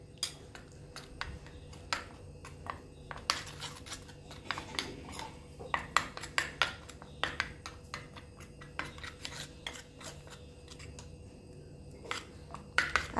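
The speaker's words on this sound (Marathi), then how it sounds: "आता मिक्स करून घेते मी।" A utensil clinks and taps repeatedly against a dish as a mixture is stirred for a Margashirsha Thursday puja, with quick irregular ticks and scrapes, close but soft, no talking.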